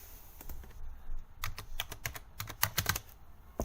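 Typing on a computer keyboard into a Windows search bar: a quick run of close, crisp key clicks, sparse at first and then faster, alone with no talk.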